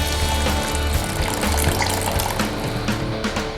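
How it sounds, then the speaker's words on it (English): Stock and reserved mushroom liquid poured into a pan of reducing mushroom ragu, a loud steady gush of liquid with sizzling, close and continuous with no speech. "I'm just going to add some stock and my reserved mushroom liquid"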